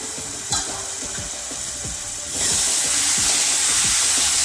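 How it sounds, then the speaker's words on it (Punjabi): Masala spices frying on a low gas flame for a capsicum and potato dish, stirred in a pan: rhythmic scraping strokes of a spoon over a soft sizzle that swells into a louder steady hiss partway through. "ਹੁਣ ਆਪਾਂ ਮਸਾਲੇ ਨੂੰ ਚੰਗੀ ਤਰ੍ਹਾਂ ਪਕਾ ਲਵਾਂਗੇ"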